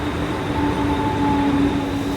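A train at Mumbai's CST station in India, with a steady low rumble and a faint sustained tone from the railway, heard close and continuous with no talk.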